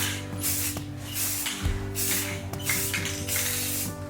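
Spray paint can coating a washer and dryer, several close hissing bursts of a few seconds each over a low background hum, without speech.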